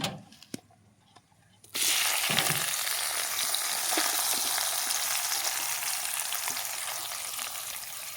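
Chopped onions hit hot oil with bay leaf and garam masala for a chicken and potato curry: after a quiet moment with a few clinks, a sudden loud sizzle bursts up and continues steadily, with faint stirring scrapes underneath.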